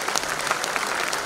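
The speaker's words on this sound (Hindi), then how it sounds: "अरे तालियां तो बजाइए बच्चों के लिए, जोर से बजाइए, बहुत जोर से।" Audience applause for children at a Saman cultural festival at Civic Centre, New Delhi: dense, steady clapping from many hands throughout a short burst, with no voices over it.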